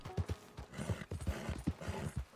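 A horse in the video game Red Dead clops along with steady, uneven hoofbeats, a soft repeating rhythm of thuds heard fairly quietly with no talking.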